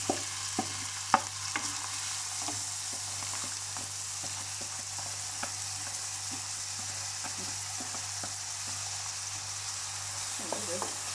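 Steady sizzling of chopped onions frying in oil in a pan, with occasional clicks and scrapes of stirring; no talk.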